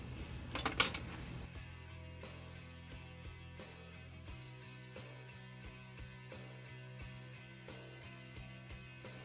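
A metal cake pan and wire cooling rack clatter as a carrot zucchini cake is flipped over, a sharp cluster of metallic knocks up front, then faint scattered clinks over a steady low kitchen hum.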